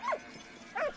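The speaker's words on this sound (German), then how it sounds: "Ein Hündchen." A small dog in the video game Valiant Hearts gives two short, sharp yips about half a second apart, close and clear over a quiet game background.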